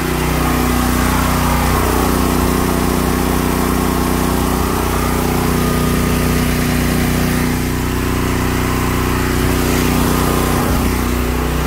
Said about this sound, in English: So the generator just kicked on.